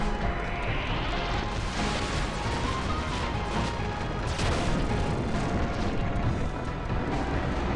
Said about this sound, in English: Uses his targeting skills to unleash a missile barrage.